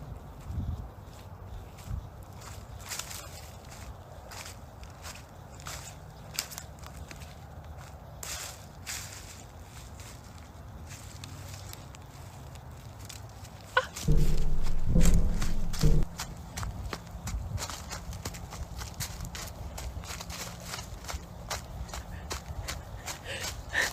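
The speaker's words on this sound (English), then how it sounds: "Footsteps can be heard approaching" Footsteps approach outside a house as a faint run of soft steps under steady background noise, with a louder thud in the middle and no talking.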